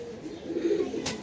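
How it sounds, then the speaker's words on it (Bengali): Pigeons kept in a breeding cage coo softly, a short, low, rounded call close by in a quiet setting. "আমাদের নতুন এই খাঁচার মধ্যে অলরেডি আমরা কবুতর থরে দিয়ে দিয়েছি বাচ্চা করার জন্য"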